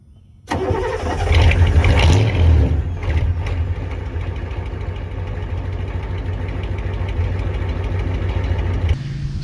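A 6.9/7.3 IDI diesel truck engine cranks briefly and fires up loudly, then settles into a steady, rough, knocking diesel idle close by with no talk.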